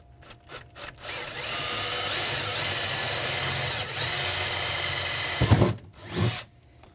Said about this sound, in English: We're going to drill approximately in here.